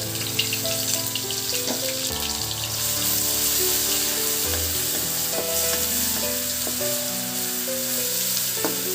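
Ground onion paste fries in hot oil with cumin seeds, giving a steady, loud sizzle that continues throughout, with occasional stirring and clinks underneath a low hum.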